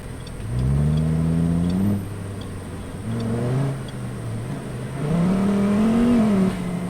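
Inline-five car engine in BeamNG.drive accelerating through the gears on a city drive, a rising harmonic whine with three surges and brief dips at the shifts, steady and close with no talk.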